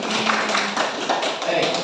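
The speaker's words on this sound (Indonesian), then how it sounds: "Tepuk tangan untuk Husni." Brief burst of classroom clapping from students applauding a classmate during an Islamic studies lesson, a short bright patter of hands lasting under two seconds before cutting off.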